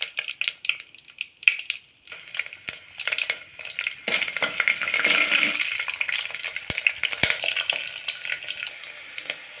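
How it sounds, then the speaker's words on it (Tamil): Fenugreek seeds and ten garlic cloves sizzle in hot sesame oil for a Tamil tempering, a close steady frying hiss that swells midway, dotted with sharp clicks and scrapes of a utensil against the pan. "எண்ணெய் சூடானதும் வெந்தயம் பொருங்க தாளிப்புக்கு. வெந்தயம் பொரிஞ்சதும் 10 பல் பூண்டை போட்டுடலாம்."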